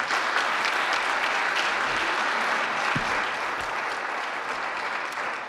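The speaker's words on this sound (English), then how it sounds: "Let's give him a big round of applause" Steady audience applause at a Kansas City 1 Million Cups startup pitch event, a full wash of many hands clapping that holds evenly and tapers slightly at the end.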